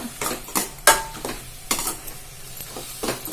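A spoon stirs moong dal into cooked greens in a pan, giving a quick series of close scraping, clinking strokes with a soft sizzle underneath.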